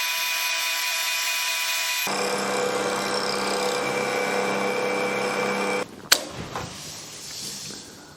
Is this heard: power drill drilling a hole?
yes